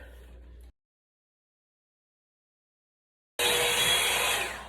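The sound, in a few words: hair blow dryer running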